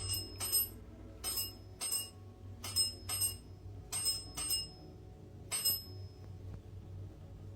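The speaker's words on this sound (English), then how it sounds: "I'm so glad you're having fun with the bell." A small bell rings in quick pairs and single dings, about ten bright strikes spread unevenly over several seconds, faint against a low steady hum in a quiet room.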